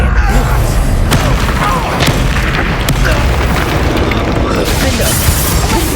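Loud, dense booming blasts from Confringo fire spells in the video game Hogwarts Legacy fill the whole stretch, rumbling continuously with sharp bursts and crashes layered over battle noise.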